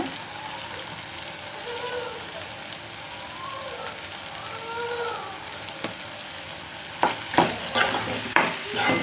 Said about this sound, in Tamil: நல்லா கிளறி விட்டுக்குங்க. முட்டை நல்லா ஃப்ரை ஆயிடுச்சுங்க.